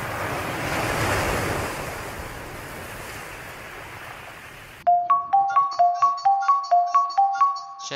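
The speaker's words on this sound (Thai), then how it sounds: "คำตอบก็คือข้อขอไข่เป็นเสียงของคลื่นทะเล" Broadband wash of ocean surf rolling and receding, fairly loud, then cut off abruptly by a repeating electronic ringtone-like chime in a steady pulse.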